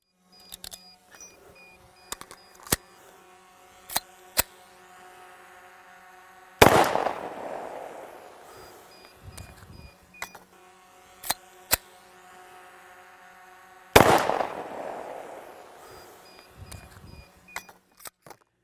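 Two sharp, loud shots from a 10mm Auto handgun fired into a backyard pool ring out about seven seconds apart, separated by faint scattered clicks and rattles.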